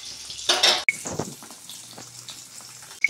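Cooked dal being poured out of a cooking pot in a home kitchen: a loud wet splashing pour with metallic pot knocks, then quieter dripping and clinks, no talking.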